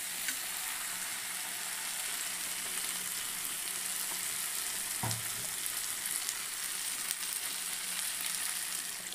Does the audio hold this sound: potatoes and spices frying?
yes